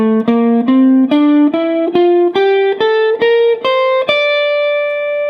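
An electric guitar plays the C Mixolydian scale as single sustained notes, about ten of them stepping steadily upward at an even pace, clear and close with a light overdriven tone and the last note ringing out.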